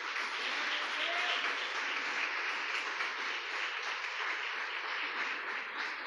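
A church congregation applauds the Lord at a Portuguese-language evening worship service, the clapping an even, sustained wash of many hands at moderate volume with no voices on top.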